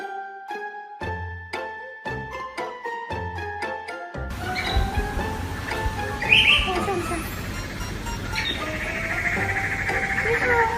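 Young Chinese people imitate birds, beginning with a run of sharp, evenly spaced voiced chirps and tweets, then continuing with looser bird-like calls over a noisy, busy background.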